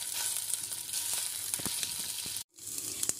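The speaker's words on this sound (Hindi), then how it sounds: "इसमें डालेंगे हम लहसुन, अदरक का पेस्ट, और इसको हम अच्छी तरह से भूनेंगे।" Garlic-ginger paste fries in hot oil in a pan with a steady close crackling sizzle and a few stirring scrapes, cut by a brief gap of silence near the end before the sizzle resumes.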